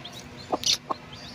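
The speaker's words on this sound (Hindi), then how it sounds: "तो यार जो अंडा बच गया था इन चूज़ों को डाल दिया" Week-old chicks and a hen give a few short, soft clucks and peeps close by, with quiet gaps between them.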